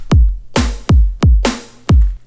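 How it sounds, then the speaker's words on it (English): Kick and layered snare drum beat in a production, punchy booming kicks alternating with bright noisy snare hits, close and loud with no voices. "So at the minute the kick and the snare is going to sound something like this."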